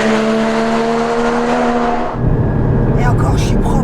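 A Porsche Cayman GT4 roars around a race track, its engine loud and steady at high revs before the pitch drops sharply as it lifts off, with a rougher, rumbling note and tire noise after.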